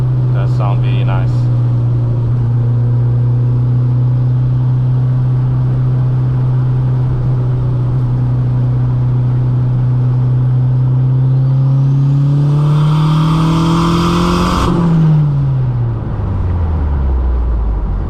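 A 16vT Mk2 GTS car engine drones steadily while driving, then climbs in pitch as it accelerates hard before dropping sharply off with a shift, loud and close from inside the cabin.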